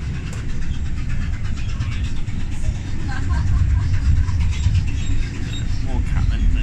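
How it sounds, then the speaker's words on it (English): Steady low rumble of a train running on rails, heard from inside near the platform area, continuous and fairly loud throughout with some faint background voices. "Let's go and see the train."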